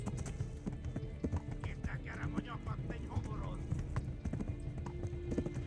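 Steady clip-clop of hooves from a galloping horse in Kingdom Come: Deliverance, rhythmic and continuous, with a voice talking over it.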